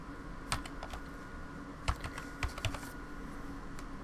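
Computer keyboard being typed on in short irregular bursts of crisp key clicks, fairly quiet and close, separated by brief pauses, with no voices.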